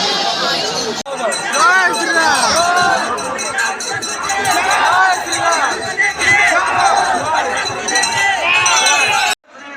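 A dense evening crowd fills the Ram Mandir in Bhubaneswar, a loud, continuous babble of many voices with footsteps, shouts and small clinks close by, ending abruptly.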